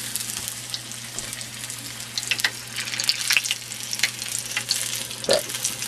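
Food fries in a pan and starts to burn, giving a steady soft sizzle broken by sharp crackles and pops, with a few utensil clicks.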